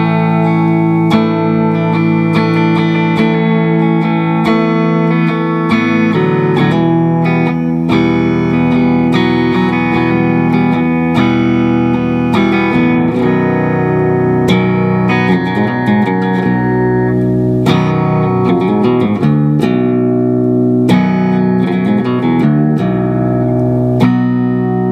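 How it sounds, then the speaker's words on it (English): A Squier Paranormal Baritone Cabronita Tele, tuned low, strums open chords in a continuous loud run with a deep, full ring and light overdrive, close and alone without voices. "how a lower tuned guitar like this, like the baritone, will sound in those open chords"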